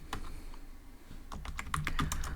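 Rapid keystrokes on a computer keyboard while entering Python code, a quick run of crisp, close clicks that gets busier toward the end, heard alone without speech.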